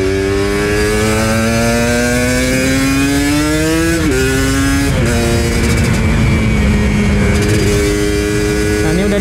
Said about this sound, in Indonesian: Gimana suara knalpotnya, brother?